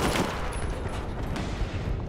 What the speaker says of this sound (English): Oh, we're taking mad bullets.